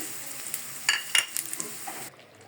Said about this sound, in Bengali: আমি এই বাগারে দিয়ে দিচ্ছি কয়টা গোটা জিরা আর কালি জিরা।